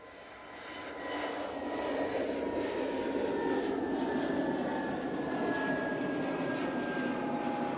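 An easyJet Airbus A320neo climbing away from Manchester Airport, a steady loud jet roar that swells in the first second and then holds with a broad rumbling drone.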